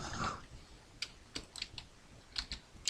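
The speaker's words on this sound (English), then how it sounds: "we're going to type the title of the book" Keys on a computer keyboard are tapped in small irregular clusters as a book title is typed, soft and close with quiet gaps between keystrokes.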